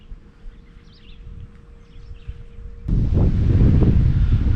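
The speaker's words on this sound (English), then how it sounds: "This wind is really cranking now." Strong wind blowing outdoors by the water while fishing as a front moves through, at first a quieter rustle with faint bird calls, then surging into a loud, steady roaring rush of wind buffeting the microphone.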